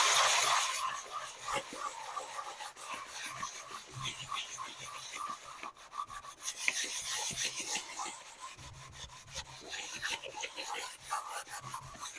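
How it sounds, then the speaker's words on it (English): Steady scratchy rubbing of abrasive on wood, repeated back-and-forth strokes at close range, with a faint low hum underneath. "Enjoy the rest of the sanding video."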